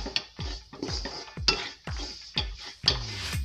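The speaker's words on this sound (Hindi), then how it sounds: "इलायची मैंने इसमें डाल दी, अब इसको मिक्स कर लेते हैं।" Roasted gram flour with cardamom stirred in a pan, a metal spoon scraping and clinking against the pan in a regular rhythm of about seven strokes, close and clear.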